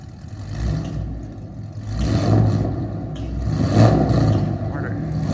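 A 5th gen Chevrolet Camaro 2SS with headers revs outdoors, its V8 rising and falling in two or three deep swells under steady engine rumble, with people talking nearby.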